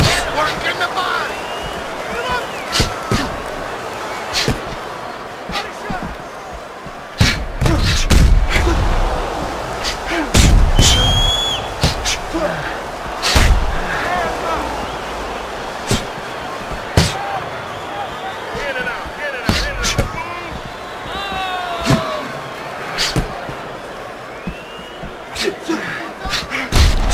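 Punches thud and slap throughout a Fight Night Round 4 boxing game bout between Roy Jones Jr and James Toney, sharp irregular impacts landing under steady commentary and crowd noise.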